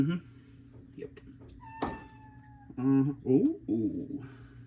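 A cat meows during a garage radiator swap, several close, distinct meows in a row, including one wavering call, mixed with a sharp knock and a person's voice.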